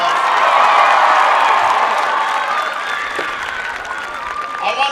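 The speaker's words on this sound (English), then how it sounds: "Please give him a big round of applause." Large rally crowd for Barack Obama in Pennsylvania applauding and cheering Bob Rupert, a dense loud wash of clapping with whoops that peaks early and then slowly thins while staying steady to the end.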